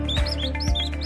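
Short chirping notes from a kacer, the oriental magpie-robin, repeated over about a second against a steady low hum, fairly close and not loud.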